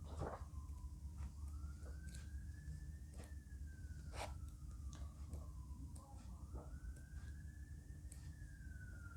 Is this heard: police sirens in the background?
yes